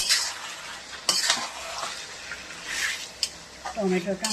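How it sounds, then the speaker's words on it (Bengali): Mutton being stirred in a pan, with soft scraping and squelching strokes, a few sharper clicks of a utensil against the pan, and a light sizzle underneath, fairly quiet and close. "এবার আমি নাড়তে থাকবো।"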